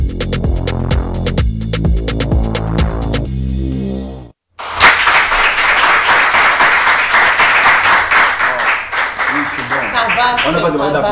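A studio audience on a morning radio show breaks into lively applause after a burst of rhythmic pulsing music cuts out; the clapping stays loud and dense with bright, scattered hand claps, and voices may be mixed in.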